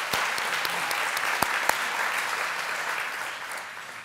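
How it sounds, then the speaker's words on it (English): Applause from an audience at a women business owners' event: sustained dense clapping with a few sharp, louder nearby claps standing out early on, fading slightly toward the end. "Give them all a round of applause."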